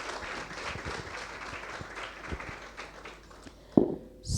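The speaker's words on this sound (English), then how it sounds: "Please clap for them." Audience clapping to welcome online participants: a modest patter of hands fairly close, thinning out near the end with a sharp knock and a brief rustle before it stops.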